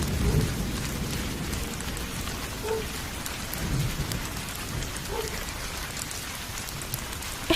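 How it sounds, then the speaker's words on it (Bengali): Steady heavy rain drums down in a riverside village during a thunderstorm, the loud continuous wash broken by a few low rumbles of thunder, with no voices. "আজ এতদিন যাবৎ টানা বৃষ্টি হচ্ছে"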